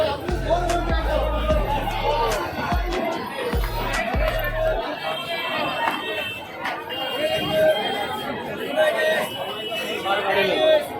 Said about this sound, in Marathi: बाहेर बघू शकता केवढी गर्दी आहे सध्या.